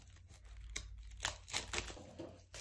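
A knife slices down the side of the plastic wrap on a Ledger Nano X box, giving faint, irregular crinkles and scratchy tearing bursts, close and quiet, with no talk.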